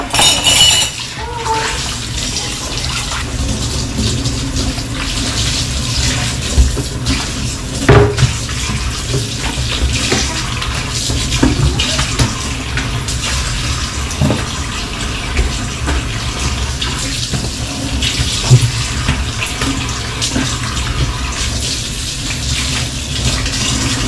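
A faucet runs steadily into a sink throughout, a continuous splashing hiss with occasional clinks of dishes and faint background voices.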